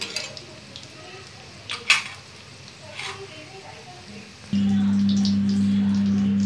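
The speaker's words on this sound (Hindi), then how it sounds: "और इसे हल्का हल्का चलाते रहेंगे बिल्कुल भी ज़्यादा जोर नहीं लगाना है" Spring roll filling is stirred gently in a pan over low heat, with soft scraping and a few light clinks of utensil on metal, then a steady low hum takes over near the end.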